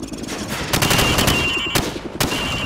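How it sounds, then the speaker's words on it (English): A rifle is fired from the hip in the Call of Duty 4 video game, loud rapid gunshots cracking out in quick bursts close up over a busy background. "Now, shoot at the targets while firing from the hip."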